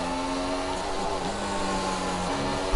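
A McLaren Formula 1 car's turbo engine in the F1 2016 video game surges and wavers at high revs, a loud, continuous droning whine with the pitch sliding and dipping.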